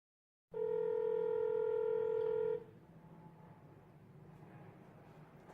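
A steady telephone tone sounds loud and close for about two seconds, then cuts off, leaving only faint line hiss.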